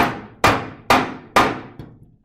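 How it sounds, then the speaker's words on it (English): A hammer taps a rusted lawn mower flywheel in four sharp metallic knocks, each ringing briefly and fading, followed by a lighter fifth tap, close and loud with no talking. "I take the hammer, and again, not on the magnets, and give it a little tap."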